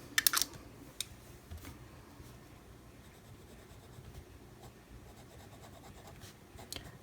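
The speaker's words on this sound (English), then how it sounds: "Like the paper was soaking up the ink faster than I could write" A TWSBI Fine fountain pen scratches across paper with a soft, steady rasp. A few sharper ticks sound near the start and the end, and there is no talking.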